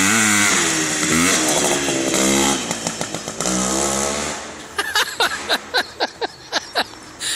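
A 1973 CZ 250 two-stroke motorcycle engine fires up and runs close by, a loud buzzing rasp that rises and falls with throttle blips, then settles into sharp rhythmic revving bursts.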